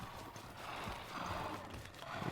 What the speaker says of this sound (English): Got some more horses.